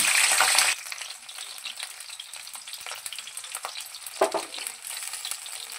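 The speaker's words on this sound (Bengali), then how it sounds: "এবারে আমরা কেটে রাখা ফুলকপিগুলো তেলের মধ্যে দিয়ে দেব।" Cut cauliflower drops into hot mustard oil with a loud burst of sizzling, then settles into a steady close frying crackle with occasional stirring scrapes.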